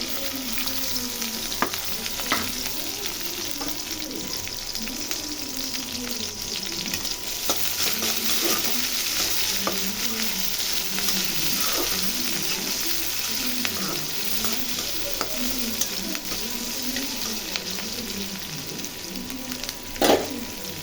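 Garlic, onion and green chili sizzle steadily in a pan for a long stretch, with occasional spatula scrapes and stirring clinks and one louder knock near the end.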